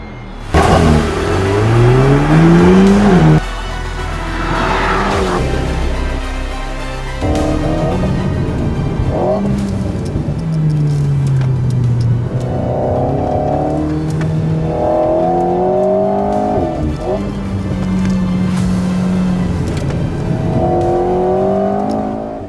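An Alpine A110 S sports car engine revs loud and close, rising in repeated sweeps through the gears, with a brief heavy low rumble at the start and steady acceleration pulls afterward.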